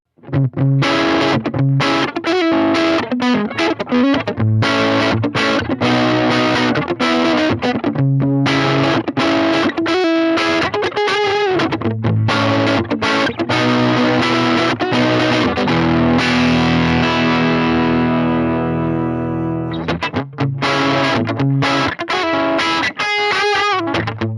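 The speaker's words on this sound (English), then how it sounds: "let's try with the bass rolled all the way back here on the neck pickup" Electric guitar on the neck pickup with the bass rolled back, through a Marshall Class 5 amp, plays a long driven riff of chugging chords and single notes, with one sustained chord fading out midway before the playing resumes, loud and steady throughout.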